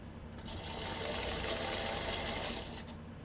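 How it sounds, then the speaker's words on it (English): A sewing machine runs steadily as it stitches the crown of a fabric sun hat to its brim, a close, continuous whir with a brief start and stop at each end. "Sewing the crown to the brim."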